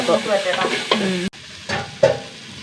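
Onion and tomato sauté with ginger and garlic in a pan, stirred with loud clattering scrapes, a brief sizzle beneath the stirring.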